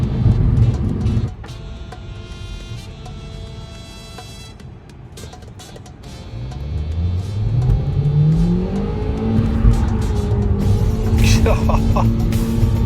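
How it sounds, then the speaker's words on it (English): A Tesla revs hard with wheel spin and climbs in pitch with a whine, close and loud over rain and road noise, and a voice talks now and then. "I guess it doesn't like the wheel spin."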